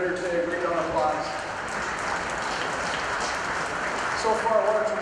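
Crowd applause at the 2015 Northeast Fall National Holstein Show, a steady, dense patter of many hands filling the hall, with a voice talking over it.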